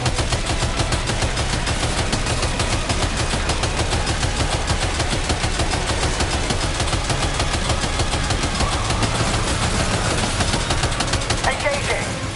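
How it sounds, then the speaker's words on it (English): Sustained machine gun fire in the Death Stranding 2 video game, a rapid, evenly spaced stream of shots over a droning engine-like background, loud and nearly unbroken for about twelve seconds. "Opening fire now."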